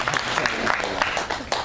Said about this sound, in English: Clap it up for New Orleans.